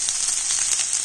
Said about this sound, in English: a couple of tablespoons of oil and throw in the vegetables